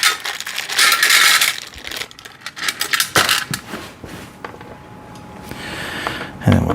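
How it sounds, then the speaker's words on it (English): Small metal screws clink and rattle into a magnetic parts tray during assembly of a rotating shoe rack tower, several close, sharp jangling drops in irregular bursts with light handling noise between. "I have a little magnetic tray that I'm going to utilize just to hold my screws all in one spot."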